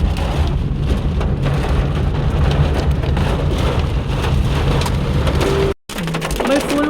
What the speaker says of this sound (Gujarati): ભાઈ ફૂલ વરસાદ ચાલુ થઈ ગયો છે, કરા બી પડે છે અને વાવાઝોડું બી ચાલુ થઈ ગયું.